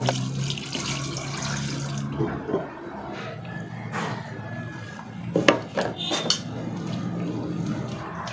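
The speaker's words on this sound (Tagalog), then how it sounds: "Tapos lalagyan natin ito ng konting tubig." Water pours steadily into a pot for beef tapa for a couple of seconds, then stops, followed by scattered clinks and knocks of cookware.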